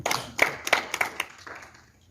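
Audience clapping at a solar inverter sales seminar in Parbatsar, a scattered handful of distinct claps with a few sharp metallic pings, thinning out and fading quickly.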